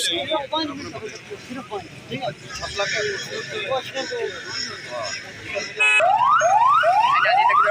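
Busy street noise with people talking, then a loud ambulance siren cuts in with a repeating rising wail, close and dominant, as it passes through traffic on a road.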